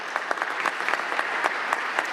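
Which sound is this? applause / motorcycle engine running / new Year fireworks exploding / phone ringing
applause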